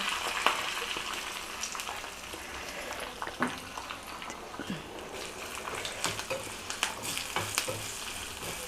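Curry leaves, dried red chillies and asafoetida tempering in hot oil for Udupi sambar, giving a steady close sizzle and crackle with scattered sharp pops throughout, no talking.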